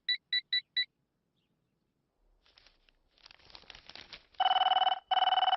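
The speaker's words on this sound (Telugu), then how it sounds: "అబ్బా, ఈ ఫోన్లో చంపేస్తున్నా." A telephone in a comedy scene sounds four quick electronic beeps, then a stretch of soft rustling, followed by two long, loud rings separated by a brief pause.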